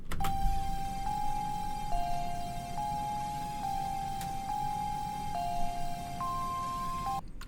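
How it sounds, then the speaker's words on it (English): High, clear bell tones ring in a looping pattern, stepping between a few close pitches over a soft background bed. "I added these really high-pitched bells just to add this evil color on it."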